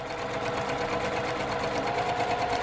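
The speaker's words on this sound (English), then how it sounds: "I'm stitching a 1/4 inch away from that line" A sewing machine runs continuously while stitching pieced quilt fabric a quarter inch from a line. It gives a loud, steady, rapid mechanical whir with even stitch pulses throughout and no voices.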